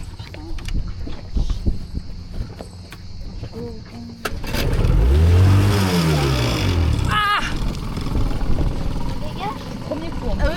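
A catamaran's engine revs up as the throttle opens, a rising and falling low roar that swells after a quieter start, with people talking over it.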